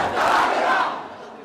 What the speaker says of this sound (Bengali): নেতাকর্মীরা কিন্তু স্লোগান দিচ্ছে।